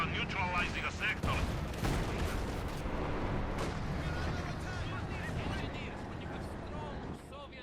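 German mortar fire in Company of Heroes 2 thumps in repeated booms amid scattered gunfire of a 1v1 match, sitting under continuous commentary.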